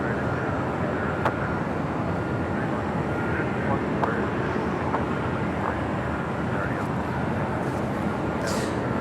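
An American Airlines Dreamliner taxiing at LAX, a steady low engine rumble and broadband roar at a distance, with faint outdoor airport noise and no distinct voices over it.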